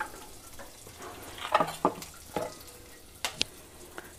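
Hot oil sizzles softly in a pan for bajra kadhi with asafoetida, a steady low hiss broken by a few sharper crackles and pops close by.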